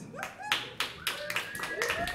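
A handful of people clap for a comedian at a small comedy show, about seven or eight sharp, uneven claps in quick succession, close and moderately loud, with faint voices underneath.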